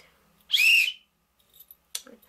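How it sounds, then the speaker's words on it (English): A survival-kit signaling whistle gives one loud, shrill blast of about half a second, heard alone and close, followed by faint handling noises and a brief soft click. "a whistle for signaling to get people's attention. It's pretty loud."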